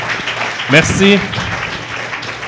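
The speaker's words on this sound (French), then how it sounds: "ça va valoir une belle main d'applaudissement là" An audience at a live show claps briefly, a moderate burst of applause that a performer's thanks cuts across before it thins out.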